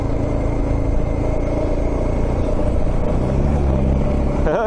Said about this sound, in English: I can see another bike coming.